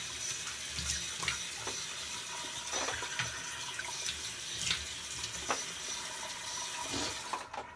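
Water runs from a tap in a bathroom, a continuous rushing splash with a few brief clinks and knocks over it, steady at mid volume with no talking.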